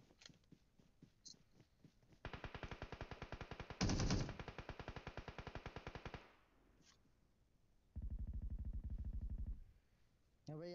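Rapid automatic gunfire in the BGMI mobile game, with several fast bursts of close shots separated by pauses, while teammates talk over voice chat.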